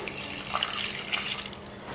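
A little water is poured into a pot of beef biryani in a home kitchen, a soft, steady trickling and splashing that runs for about two seconds at low level, with no talking.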